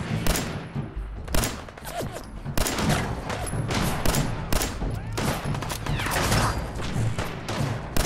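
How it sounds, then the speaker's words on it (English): A minigun firing nonstop in Fallout 4, a dense roaring stream of rapid shots lasting several seconds with thuds and impacts mixed in, loud and close throughout. "Why are we wasting our hard-earned ammo here from the minigun?"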